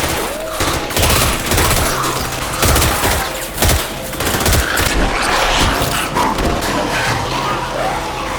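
Rapid bursts of gunfire in a zombie-outbreak scene crackle and pop in dense volleys, loud and continuous, with scattered sharper shots over a noisy background.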